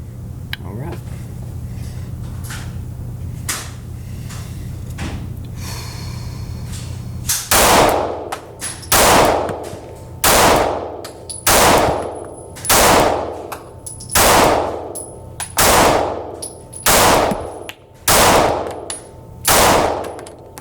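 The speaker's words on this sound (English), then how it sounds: "there's 20 rounds through the 365X Macro" A Sig Sauer P365X Macro pistol fires about ten loud, sharp shots in a steady, evenly spaced string, close by, after a quieter stretch of handling noise.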